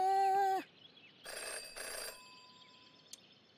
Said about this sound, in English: Oh, telephone ring.